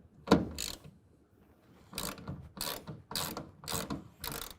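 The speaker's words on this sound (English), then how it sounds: "Now we can go ahead and tighten this down. We're going to use the 10mm box end wrench" A 10mm box end wrench tightens a bolt on a soft roll-up tonneau cover on a 2024 Ford Ranger, giving one ratcheting burst followed by five evenly spaced clicking strokes, close and alone.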